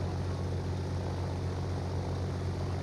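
A Beechcraft D18 Volpar flying around Guam gives off a constant loud cabin drone of engine and propeller, an unbroken steady roar with no talk.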